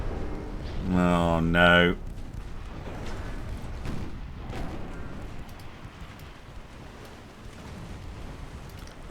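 Naval gunfire and torpedo hits in the Dreadnought Improvement Project French campaign: a continuous rumble of heavy booms and impacts, with a clear harmonic horn-like blast early on, under a short spoken exclamation.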